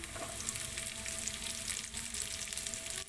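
Onion added to a hot pan for sweet and sour escabeche tilapia, giving a continuous close sizzle with faint crackles and occasional soft stirring, fairly quiet overall.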